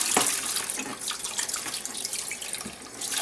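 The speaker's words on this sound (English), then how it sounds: "Then I would just literally pour all the water." Water poured steadily from a container into a toilet bowl while cleaning cloth menstrual pads, a continuous splashing gush with no talk.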